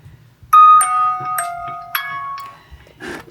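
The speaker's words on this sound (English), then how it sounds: "if I'm recording with the phone, it silences all the notifications" A smartphone notification chime rings out several times in clear, bright electronic tones, close and loud in a quiet indoor kitchen during winter storm meal prep, with soft room noise between.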